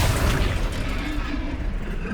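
A Confringo blasting curse explodes with a loud, booming burst in Hogwarts Legacy combat, and a rumbling roar follows under a shouted spell name and battle noise.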